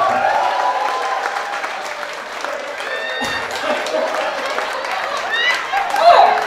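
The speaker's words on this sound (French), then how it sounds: "On applaudit Alain Totowa, s'il vous plaît." Applause from an event audience honouring a footballer, steady and dense throughout with a brief swell near the end, mixed with crowd noise and some talking.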